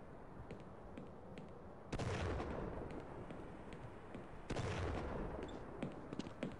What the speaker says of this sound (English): I think that's a shotgun.